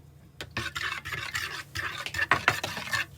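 Vegan cinnamon roll dough base of foamy yeast, nutritional yeast and vegetable oil being stirred in a bowl: a run of close, brisk scraping and sloshing strokes after a brief quiet start.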